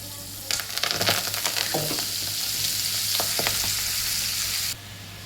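Steady oily sizzling of leafy greens sautéing in a pan, with scattered scraping stirs and clinks; the sizzle cuts off near the end.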